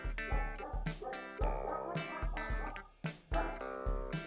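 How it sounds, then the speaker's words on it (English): A dog yips and barks in quick repeated bursts, fairly faint and set back from the microphone, with several short sharp calls in an uneven rhythm. "Was that a dog in the background?"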